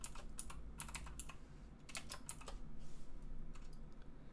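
Keystrokes on a computer keyboard as a username is entered, rapid irregular clicks in short bursts with brief pauses, close and clear with no voices.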